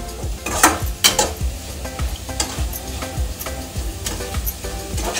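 Crispy potato fry being stirred in a sizzling pan, a spoon scraping and tapping the metal in a loose rhythm over a constant close frying hiss, with no voices.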